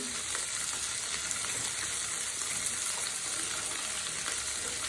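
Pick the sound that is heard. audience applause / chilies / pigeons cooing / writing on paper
chilies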